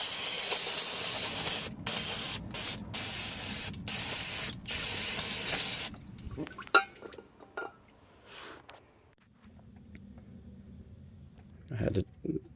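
Aerosol chemical cleaner sprayed from a can onto the transmission area of a Jeep XJ Cherokee, in five short bursts of hissing spray close by, followed by quieter handling clatter and faint voices.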